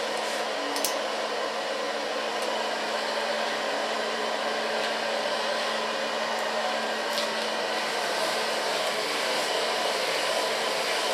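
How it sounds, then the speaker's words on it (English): A hair dryer blows on hair with a continuous, even whirring hiss that stays close and steady from start to finish, with no voices. "I work my whole hair till I get no hair left to blow dry."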